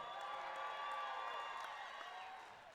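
Fans in the stands at a BMX national race make noise, a broad, steady crowd roar with faint whoops and scattered claps, fairly distant, swelling slightly and then tapering off toward the end.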